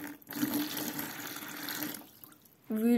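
Half a liter of warm water poured from a container onto hydrogel, a steady close splashing gurgle lasting about two seconds, then a pause and a brief louder burst of noise at the end.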